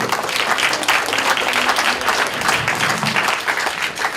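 A town hall audience in Wausau, Wisconsin applauds steadily, a dense crowd clapping at close range without a break and no talk over it.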